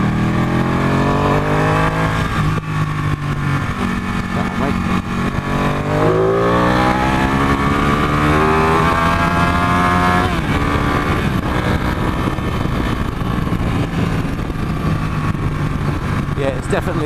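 A 2015 Ducati 899 Panigale motorcycle engine revs and shifts through gears while riding through corners, its loud rising and falling tones continuous throughout, with someone speaking over it.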